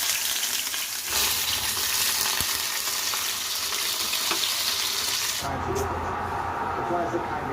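Fish frying in a pan in a home kitchen, a steady broadband sizzle and crackle running throughout, with a shift partway as the fish goes in and the hiss turns lower and fuller.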